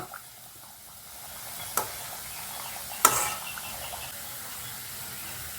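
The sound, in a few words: vada frying in hot oil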